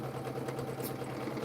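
A Quilt Ambition 630 sewing machine runs with a steady, even mechanical whir and hum, close and moderately loud, with no pauses and no voices over it.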